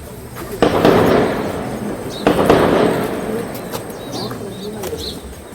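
Two loud, sharp gunshots echo some distance away during a security forces encounter with militants in Kashmir, each followed by a rolling rumble, while birds coo and chirp in the background.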